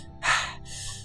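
A human voice imitates exhausted panting, one sharp loud gasping breath in followed by a softer breathy exhale, short and close.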